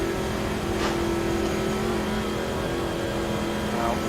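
A race car engine drones at a steady high pitch, held flat out at full throttle on the Nordschleife in Automobilista 2, loud and continuous with only slight shifts in tone.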